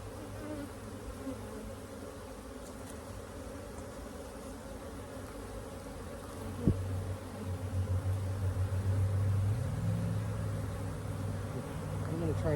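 Dense, steady buzzing of many bees up close around a hive frame, a continuous hum that swells slightly louder toward the end, with a brief knock partway through.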